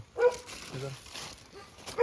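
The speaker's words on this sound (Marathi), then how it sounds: "कुत्रा भुकायला लागलाय" A dog gives a few short, sharp barks with brief pauses between them, fairly close, while faint voices murmur in the background.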